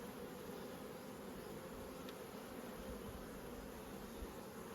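Honeybees in a nucleus hive give off a soft, continuous buzzing drone, faint and even, with no talk over it.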